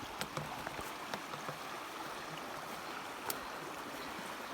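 Running water of a stream in the Canadian wilderness of Temagami, a steady, fairly faint broadband rush with a few small splashes or clicks.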